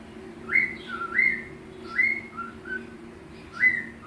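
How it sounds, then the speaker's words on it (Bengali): A pet bird at home gives a series of clear whistled notes, rising and falling, about once a second. The calls are fairly close, with a low steady hum underneath and no talk. "পিকু নিজের মনে বক বক করে।"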